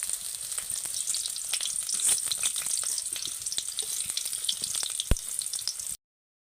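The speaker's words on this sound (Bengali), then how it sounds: "এটা একটু আস্তে আস্তে ধরে ধরে ভাজতে হবে, খুব অল্প জালে ভাজতে হবে।" Okra (bhindi) frying gently over low heat gives a steady, moderate sizzle with scattered pops and crackles, heard alone for about six seconds before stopping.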